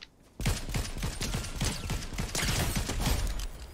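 Rapid, sustained gunfire in a Fortnite match, fired nearby as a dense run of sharp shots with no break for several seconds.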